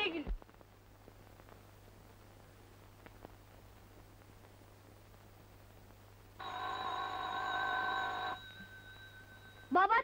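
A telephone rings once in a quiet room of a home, a bright electronic trill lasting about two seconds, with faint background noise before and after.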